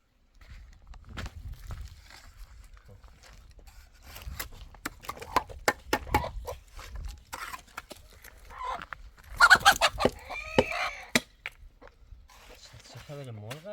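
Chickens in a rainy mountain village cluck intermittently around a clearing, with scattered pecks and footsteps nearby, while people talk over them through much of the scene.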